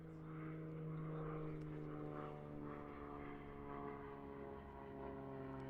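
An aerobatic propeller plane at a national championship pulls up into a loop, its engine a faint, distant, steady drone that swells slightly and holds without pause.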